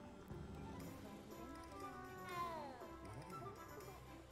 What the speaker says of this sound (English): I didn't realize there was a cat there.